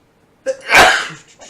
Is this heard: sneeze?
yes